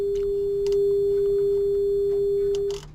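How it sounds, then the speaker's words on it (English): A steady pure sine-wave tone hums loudly and continuously, with a low background buzz and faint clicks, cutting off near the end. "You can probably hear a sine wave there."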